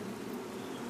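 Honeybees on a hive frame give off a steady, close, continuous buzzing hum that stays even for under a second.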